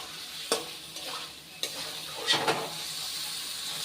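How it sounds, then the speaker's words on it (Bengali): Fried potatoes cooking in thick spice paste for a catla fish curry, a soft continuous sizzle broken by a few sharp stirring scrapes against the pan, close and alone. "এবারে আলু দিয়ে আরো 3-4 মিনিট কষিয়ে নেব"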